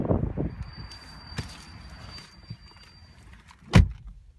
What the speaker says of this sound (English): Getting inside the car, the sound of the door is simply amazing again.